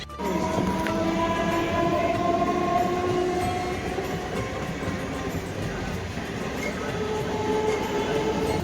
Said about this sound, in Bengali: আমাদের ট্রেন এখন নৈহাটি ক্রস করে দিয়েছে